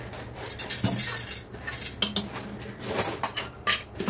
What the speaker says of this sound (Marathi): वरून थोडंसं तेल घालणार आहे आणि अर्धा चमचा हळद। सगळं व्यवस्थित मिक्स करून घेतलं आहे।